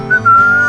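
A short whistled tune on country radio station K-Rose in GTA San Andreas, a clear, loud solo whistle holding a couple of sustained notes.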